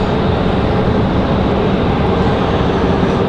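An Icelandair airliner at Raleigh-Durham airport rolls along the runway, a continuous loud, even roar of jet engines that holds steady throughout, with no voices.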